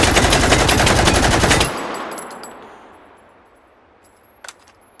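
An M16 rifle fires fully automatic in the virtual reality game Hot Dogs Horseshoes & Hand Grenades. A loud, rapid burst of under two seconds gives way to a fading echo, and a spent casing lightly clinks afterward.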